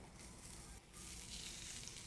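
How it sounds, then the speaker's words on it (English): Steady, crackling sizzle of steak searing in a hot cast iron pan, continuous and close, with a faint hiss throughout. "That's that beautiful sizzle sound, right?"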